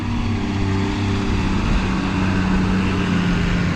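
A T7 farm tractor engine runs at a steady, loud drone close by, with a constant low mechanical rumble and no voices.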